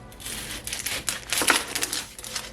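Knife chopping an onion into half rings on a cutting board for al pastor tacos, a quick run of close, crisp cuts and taps at an uneven rhythm with no talk.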